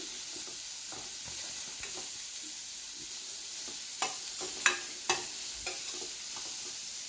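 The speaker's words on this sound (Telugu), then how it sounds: "ఇవి బ్రౌన్ కలర్ వచ్చే వరకు వేగాలండి." Eggs and tender tamarind leaves fry in a pan to golden brown with a soft, steady sizzle, and a spatula scrapes and taps now and then toward the end.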